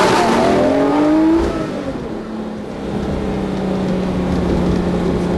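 A 640 PS Lamborghini accelerates hard, its engine note climbing quickly through the revs before a gear change drops it into a lower, steady roar that builds again, loud and close.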